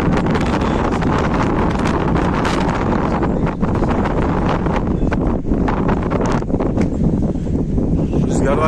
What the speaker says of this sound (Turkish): Rüzgar varken konuşmama kararı aldım.